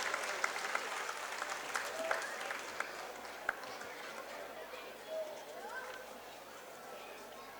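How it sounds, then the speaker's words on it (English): A school audience applauds at a prize distribution ceremony, a steady patter of many hands clapping together, heard at a moderate distance and fairly faint, with crowd murmur around it. "Give them a big round of applause."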